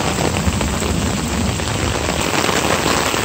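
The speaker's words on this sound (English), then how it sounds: "here we are, it's raining" Heavy rain pours down steadily outdoors near a drainage system, a dense, loud hiss of drops on surfaces with no pauses.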